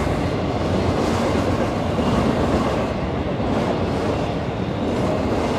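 A CSX manifest freight train of many cars rolls past on the freight line, a loud, dense, continuous rumble and rush of wheels close by, with no voices.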